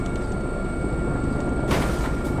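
A helicopter in the military video game Squad gives a steady, loud rotor-and-engine roar with a broad whoosh near the end, and no one speaks.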